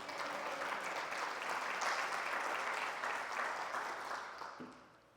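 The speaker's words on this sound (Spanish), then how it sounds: "Vamos a dar una ofrenda de palmas." A church congregation gives a sustained round of applause, many hands clapping together in a dense, steady wash that holds for several seconds before tapering off at the end.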